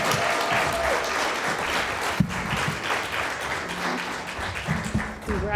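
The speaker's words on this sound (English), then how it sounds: "join me in a huge round of applause to welcome Ashley Magnum to the stage" A summit audience claps to welcome a speaker to the stage, with a steady, full wash of many hands applauding throughout and a faint whistle at one point.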